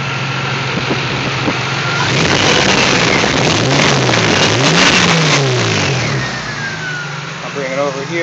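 A 1995 Supra sports car engine runs close by after a cold start, idling then revving up in a couple of rising, falling pulls before settling back; a voice speaks briefly near the end.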